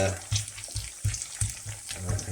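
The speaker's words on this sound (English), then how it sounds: "I just put about this amount of oil, and then what I'll do is I keep moving everything around so it cooks evenly" Potatoes fry in a modest amount of oil in a pan while being stirred around, giving a soft, steady sizzle broken by periodic low thuds of movement.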